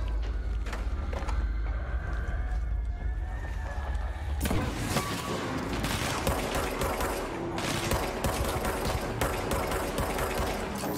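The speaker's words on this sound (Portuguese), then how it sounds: "acertei os tiros nele" Rapid bursts of gunfire crackle continuously, dense and loud, with a mechanical rumble underneath and no talking, in the video game Control.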